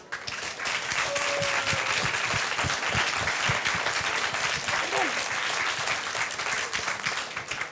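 Loud, sustained applause from a large audience at a prize-giving ceremony, dense clapping filling the whole stretch without letting up.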